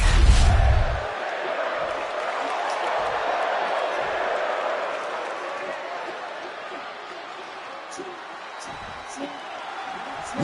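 A wrestling arena crowd in WWE 2K25 roars steadily for Lucha Libre star Rey Mysterio, a broad continuous wash of cheering that holds at a moderate level under an announcer's commentary.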